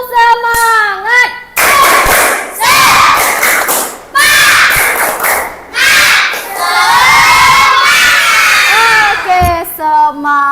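A group of fifth-grade children in an Indonesian primary school classroom shouts a loud, rhythmic cheer with clapping, several bursts in a row, close and energetic, with a brief pause between chants.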